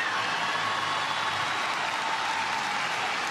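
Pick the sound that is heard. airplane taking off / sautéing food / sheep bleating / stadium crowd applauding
stadium crowd applauding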